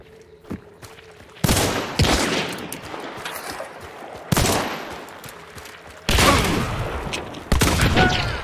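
Shotgun blasts from Hunt: Showdown boom out in four heavy, loud reports spaced a couple of seconds apart, each with a rumbling tail, after a fainter earlier shot; no talking.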